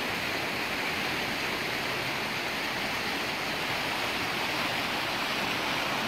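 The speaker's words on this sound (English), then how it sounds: "Water is still running fairly good for the Nogales Wash." Floodwater rushes through the Nogales Wash after rain, a loud, steady broadband roar with no pauses.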